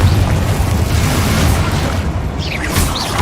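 A Confringo explosion spell going off in the video game Hogwarts Legacy: a loud, dense rumbling boom that fills the whole moment, with a couple of brief whooshing flares near the end.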